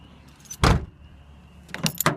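A Dodge Colt's car door thumps shut once, a solid close-up slam, followed a moment later by two quicker latch clunks and rattles.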